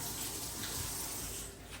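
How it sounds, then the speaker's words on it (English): Tap water runs steadily onto a pan being washed in a kitchen sink, a broad constant splashing rush with no voices. "So this pan, washing it clean."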